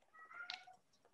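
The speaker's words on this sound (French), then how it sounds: "je suis désolé pour mon chat qui est un peu perturbé" A single short meow from a domestic cat, rising and then falling, fairly close and soft against quiet indoor background.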